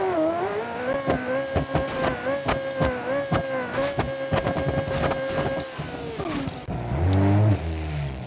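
A simulated car in BeamNG, a V8 model, drives over big bumps, its steady engine hum broken by repeated sharp thumps and clunks from the suspension. Near the end it revs up with a deeper, louder growl.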